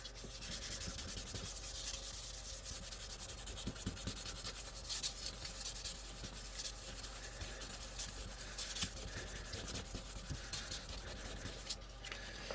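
Sandpaper of 600 grit sands spray can model primer on a metal test piece, a steady, close, gritty scrubbing that continues throughout with slight rhythmic swells and no speech.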